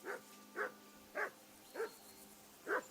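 A dog barks in Kingdom Come: Deliverance II: five separate, evenly spaced barks at moderate distance, each short and sharp, with no talking in between.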